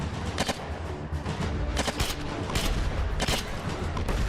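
Rapid bursts of gunfire and explosive cracks in the State of Decay zombie survival game, several sharp volleys spaced irregularly over a constant background rumble, with no talk.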